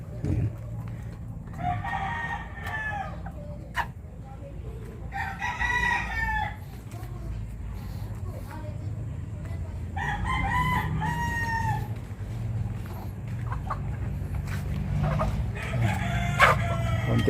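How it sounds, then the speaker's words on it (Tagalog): Hens cluck and a rooster crows repeatedly nearby, bursts spaced a few seconds apart over a low outdoor rumble, with faint talk in the background. "yung mga manok nag-uumpisa na naman mangitlog oh"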